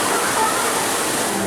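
A water feature at a Gilroy Gardens amusement park oasis splashes in a steady, broad wash of falling water, loud and continuous throughout with no clear talk over it.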